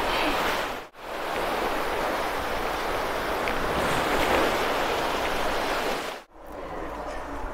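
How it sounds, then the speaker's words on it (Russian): Calm sea waves wash and splash continuously against the shore at Guardamar, Spain, in a broad, steady rush, with two brief dropouts. "Сейчас море спокойное, и то, посмотрите, плещется"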